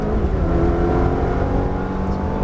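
A Ferrari F430 engine pulls hard on a race track, a loud, steady, close engine drone that holds without a break from start to finish.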